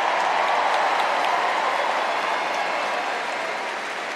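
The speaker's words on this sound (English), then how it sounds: "Give them a round of applause." An audience at a Ringling Bros circus performance claps continuously, a dense, loud wash of applause that holds steady and then eases slightly toward the end.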